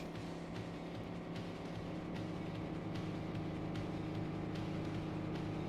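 Engine of a car racing in the 1996 DOS game The Need for Speed: SE, a steady synthetic drone at high revs held without pause, with faint periodic clicks.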